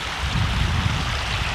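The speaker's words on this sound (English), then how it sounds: "the water is still continuing to flow at a pretty good rate" A stream near a lake keeps flowing steadily after heavy rain, a continuous broadband rush of water close by with no voices over it.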